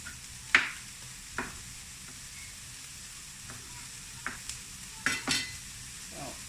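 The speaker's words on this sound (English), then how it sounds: "I have pressed tofu, and I have clean hands, and I'm going to crumble the tofu" Pressed tofu is crumbled by hand into a frying pan over a soft steady sizzle, with several separate soft thuds and crackles as pieces drop in, close and fairly quiet with no talking.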